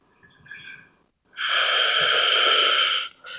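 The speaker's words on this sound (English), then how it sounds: "Big breath. Big exhale." A big ujjayi-style exhale during a yoga session, a loud, steady, breathy hiss lasting about two seconds, close up, after a faint short breath and a brief pause, with no talking.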